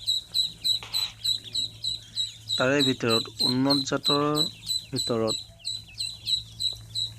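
Ducks on a duck farm in Assam give repeated short calls in the background throughout, continuing steadily beneath someone speaking in the foreground.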